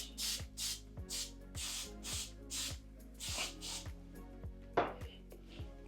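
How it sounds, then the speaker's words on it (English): Repeated short hissing sprays from an aerosol can of holding hairspray onto hair, about ten bursts in a steady rhythm, close by with no talking. "Do not be afraid to spray a lot of hair, holding spray."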